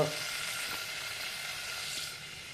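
Bitter gourd and mutton curry sizzling in a hot pan, a steady broad hiss of frying oil close by, constant throughout with no voices.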